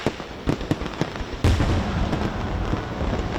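New Year fireworks pop and crack at varying distances: a few sharp separate bangs, then one loud close burst followed by a lingering rumble and crackle of further explosions.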